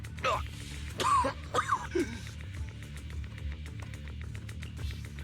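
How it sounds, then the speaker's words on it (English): A character in the video game Zenless Zone Zero coughing and clearing their throat, a few rough bursts near the start over quiet background music, with talking around them. "You're coughing up blood."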